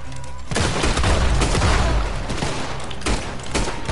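Rapid gunfire in the Red Dead Redemption 2 video game, a loud, dense fusillade of overlapping shots and booms that runs steadily for the whole stretch, with no voices over it.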